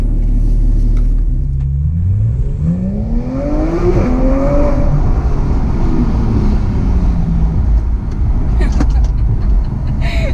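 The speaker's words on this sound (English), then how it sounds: "when you accelerate, the car goes and it's super quick" A Porsche 911 GT3 engine revs and accelerates hard in a tunnel, its pitch climbing steadily through the gears, loud and close inside the cabin with a constant rumble underneath.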